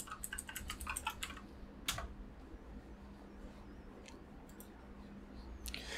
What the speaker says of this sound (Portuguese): eu vou digitar ela aqui